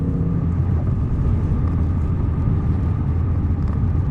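Loud, steady low engine rumble from a 2007 Ford Mustang GT with a 4.6L three-valve V8 and manual transmission accelerating on the road, a continuous close drone with no talk over it.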